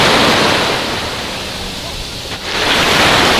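Small sea waves wash steadily onto JBR Beach in Dubai, a loud, broadband surf hiss with gentle swells rising and easing, heard up close with wind buffeting the microphone.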